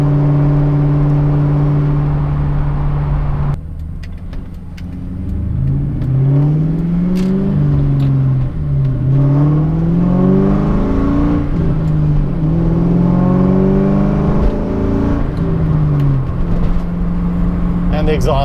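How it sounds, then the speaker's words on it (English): A Ford Mustang Mach 1 exhaust rumbles and rises in repeated accelerating pulls, loud and close, with the revs sweeping up and falling back between surges. "You hear this exhaust, you know it's a Mustang."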